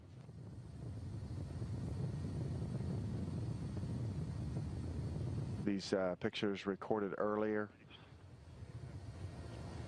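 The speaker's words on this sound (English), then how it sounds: "as the final descent occurred and helicopters neared the scene" Helicopters circle near the Soyuz spacecraft landing site during final descent, giving a steady, loud rotor and engine drone with wind rumble throughout, while someone speaks briefly partway through.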